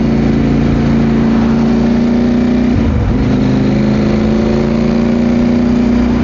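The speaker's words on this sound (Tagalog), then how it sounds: "Dami nang nakasasakyan, dami nang nakamotor." Road traffic of cars and motorcycles on a long drive in the Philippines, heard as a loud, steady engine drone from close by with a brief dip in the middle, with no talking.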